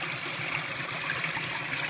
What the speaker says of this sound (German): Das Wasser fließt hier links in den Tank.